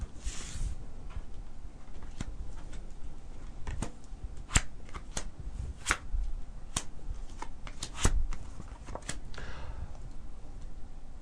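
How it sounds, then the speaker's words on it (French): Tarot cards are shuffled and laid out on a table during a live psychic reading broadcast. A soft swishing shuffle opens, then scattered crisp taps and clicks follow as single cards are placed, fairly quiet and close, with no talking. "pendant que je place les cartes"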